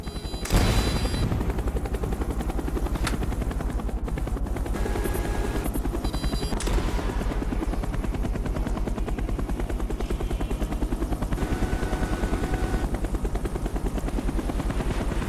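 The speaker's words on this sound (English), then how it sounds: "some attack helicopters just refuse to be shot down" Attack helicopters in a Call of Duty game give a loud, continuous rotor chop and engine roar for about fifteen seconds, with bursts of gunfire and sharp impacts breaking through the dense mix.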